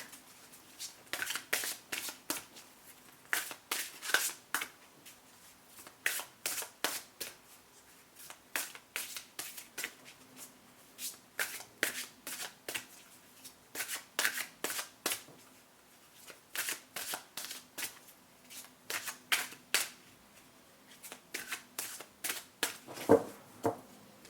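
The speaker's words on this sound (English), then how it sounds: "Need a few more shuffles here." Repeated riffle-shuffles of a card deck, crisp bursts of flapping cards in steady succession, close up, with a low steady hum beneath.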